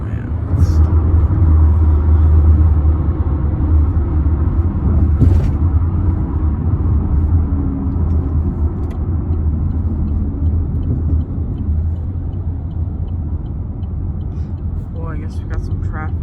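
Steady low road rumble from inside a car crossing a bridge into Cincinnati, loud and constant throughout, with people talking over it.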